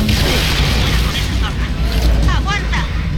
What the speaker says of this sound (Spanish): Tengo que activarlo para otra explosión.